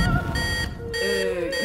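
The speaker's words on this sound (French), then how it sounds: "C'est mon alarme d'incendie, ça, non?" An electronic alarm beeps with high, piercing tones that shift in pitch, loud and close with no talking.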